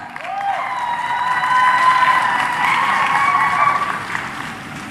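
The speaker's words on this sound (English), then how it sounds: "Let's please cheer her on." Audience applause and cheering at a university graduation ceremony, a broad steady wash of clapping with whistles and shouts rising through the middle, loud and continuous throughout.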